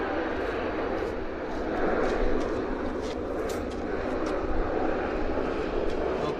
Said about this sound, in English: we've got more aircraft landings